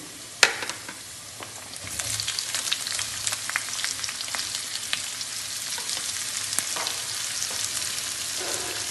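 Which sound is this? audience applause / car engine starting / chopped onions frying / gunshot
chopped onions frying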